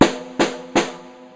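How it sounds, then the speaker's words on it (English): Three regular snare drum hits, evenly spaced and close, each with a sharp crack and a brief ringing decay. "Now, a regular hit on the snare drum sounds like this"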